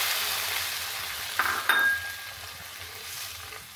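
A little water poured into noodles cooking in a hot pan sets off a short burst of hissing sizzle that rises sharply and then settles into a softer bubbling, with no talking.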